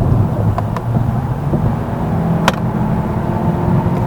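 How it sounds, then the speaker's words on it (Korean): A Kia K5 1.6 T-GDI engine in comfort mode hums and drones steadily at high revs, with a few faint clicks and rattles over the constant low rumble. "이게 지금 컴포트 모드에서 그냥 조금 엑셀을 깊게 밟아봤을 때 엔진 소리거든요."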